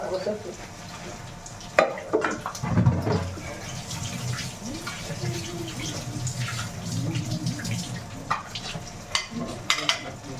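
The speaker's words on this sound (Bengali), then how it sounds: "একদিক দিয়ে বাসন মাজি" Dishes are scrubbed at a kitchen sink under running water, with a watery rush, irregular clatter and scraping, and occasional knocks of pots and utensils, close by.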